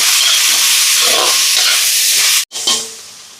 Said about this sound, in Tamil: இந்த தக்காளி பழத்தை வந்து பாவக்காய்க்கு இப்போ தக்காளி பழம் இங்கே வதங்கட்டும்